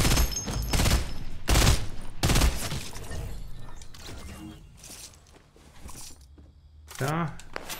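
Gunfire in the video game Fortnite: several loud bursts of rapid shots in the first few seconds, then quieter scattered mechanical clicks and clatter, with a player talking over the game sounds.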